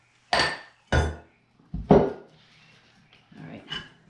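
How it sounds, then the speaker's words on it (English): Ingredients for a three bean hotdog bake are dumped into a bean pot, heard as several close, heavy thuds and clanks against the pot, then softer scraping knocks. "I am going to dump all this stuff into"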